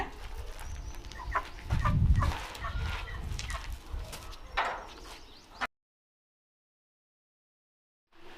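A village chicken clucks in a rural yard, several short close clucks in an irregular run with light background noise, before the sound cuts out into silence near the end.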